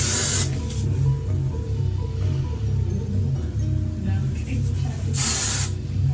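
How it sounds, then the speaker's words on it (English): Hairspray from an aerosol can misted onto styled hair during a Pachuca crown hairstyle, a short hissing burst at the start and another near the end, over a low background hum. "And then now I'm going to spray."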